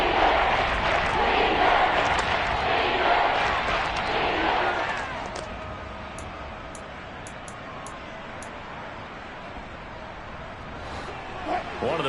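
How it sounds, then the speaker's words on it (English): A stadium crowd in the American football video game Madden 23 roars loudly as a big third down approaches, a dense continuous cheer that eases to a lower steady murmur, with a few faint high beeps near the end. "the crowd getting into it as we come up on a big third down"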